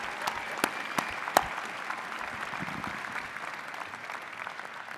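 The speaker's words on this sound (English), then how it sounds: "Let's have another round of applause for all of our wonderful Warner Rams graduating today." Crowd at a college of natural resources commencement applauding graduates: a few sharp nearby claps over a steady, moderately distant wash of audience clapping that holds evenly throughout.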